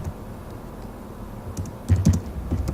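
Code is typed on a computer keyboard, with quiet room tone first and then a brief burst of clicky keystrokes followed by a few more taps near the end.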